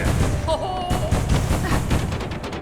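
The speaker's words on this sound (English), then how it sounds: "What are those explosions?" Booming explosions in the video game Hollow Knight: Silksong, a dense run of loud thuds and blasts over game music and effects, continuous for a few seconds.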